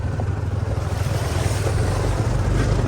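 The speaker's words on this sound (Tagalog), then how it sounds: "Ang lakas ng agos." A strong mountain river current rushes steadily, a loud continuous roar of flowing water with wind buffeting the microphone and no speech.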